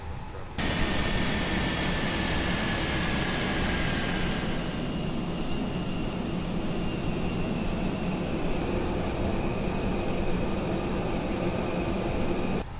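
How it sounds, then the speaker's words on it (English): Jet airliner engines shut down in Microsoft Flight Simulator, a loud, steady turbine roar whose whining tones sag and fade as the engines spool down, over constant cabin-like air noise. "Left and right engines off."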